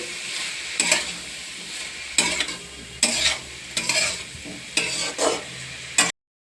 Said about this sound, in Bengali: এটাকে আমাকে ভালো করে নেড়ে নেব কষিয়ে